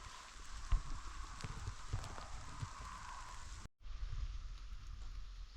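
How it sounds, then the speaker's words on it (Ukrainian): Light autumn rain patters steadily on nearby surfaces in a mushroom-picking forest, a soft continuous hiss with scattered drops, briefly cut off before resuming. "Дощ накрапає, ми з манією потрішки підмокаємо."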